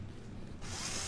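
Power drill boring into a fresh pumpkin for Halloween decorating, a steady motor whine that swells louder partway through as the bit bites into the flesh, close and alone.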